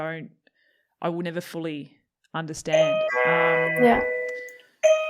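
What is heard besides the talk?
doorbell ringing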